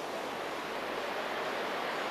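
Calm sea waves on the beach at Palanga make a soft, continuous wash of surf, faint and even, with no voices.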